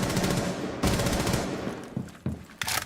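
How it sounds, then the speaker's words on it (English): Gunfire in the Rainbow Six Siege video game during a tournament match, with a sustained burst of rapid automatic shots followed by several shorter, sharp bursts, loud and close. "what a shot from Outa"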